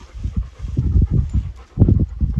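A dog pants in short rhythmic bursts close by on a ranch with horses and cattle around, the breathy huffs rising and falling steadily with a brief pause near the middle.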